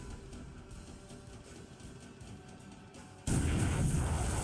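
A torpedo strikes a ship in the War in the Pacific naval war game, a sudden loud burst of blast noise following a low rumbling background.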